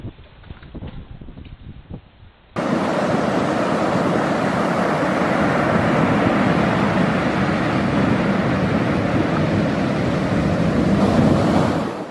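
Rough ocean surf pounds against a ship in a loud, continuous roar mixed with wind buffeting the microphone, beginning after a quieter stretch of about two seconds and holding steady to the end.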